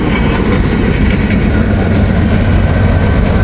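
A distributed-power locomotive, freshly rebuilt, rolls past mid-train on a freight; a loud, steady, low rumble of engine and rail noise holds throughout without letup.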